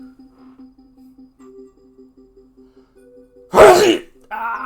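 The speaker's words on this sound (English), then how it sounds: "I'm gonna sneeze." A single loud, sharp sneeze breaks through soft, tinkling game music, followed by a brief voiced exclamation.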